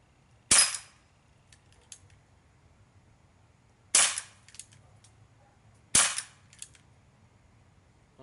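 Three sharp, snappy shots from a Crosman Vigilante CO2 revolver fired at swinging steel, each a crisp close crack with a faint metallic ping, spaced a few seconds apart.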